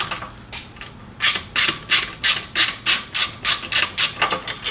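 Repeated metallic ratcheting from an Allen key loosening 5mm bolts on a motorcycle's passenger foot pegs, a WR250R, about ten crisp, close rasping strokes in steady rhythm after a quiet start.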